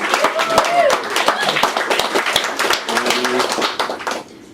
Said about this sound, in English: So just a round of applause for Lydia for being amazing.